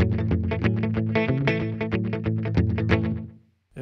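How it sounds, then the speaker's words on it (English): An electric guitar through a Blackstar amPlug2fly headphone amp plays a quick run of distorted notes, each followed by a short, tight slapback echo, and then the sound cuts off. "And then, the slapback delay."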